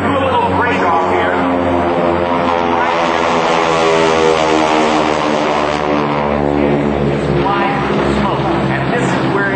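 Red Baron Squadron propeller aircraft breaking off from a diamond formation at an air show, engines droning loud and steady throughout with shifting pitch as the planes pitch up, a commentator talking over the roar.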